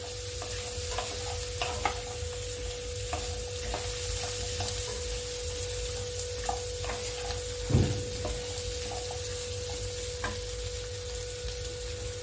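Carrot and papaya lightly sautéing in a pan for a home-style chicken stew make a continuous soft sizzle, broken by scattered stirring clicks and one louder scrape near the end.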